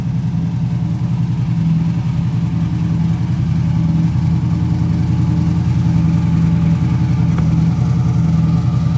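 A drag race car's engine idles loudly and steadily before its run, a close, even rumble that holds without revving for the whole stretch.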